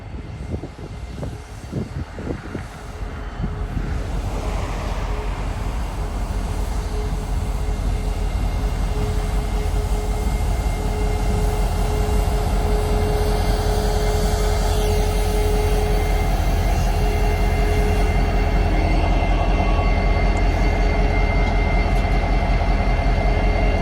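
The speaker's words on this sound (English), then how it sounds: "We then see L251 pushing back north with this time a cut of manifest." CSX freight switching job L251 shoving north with a cut of manifest cars at Collier Yard, steady locomotive engine drone with a sustained tone and rolling rail rumble, building over the first few seconds then holding loud and close.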